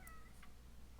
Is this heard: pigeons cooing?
no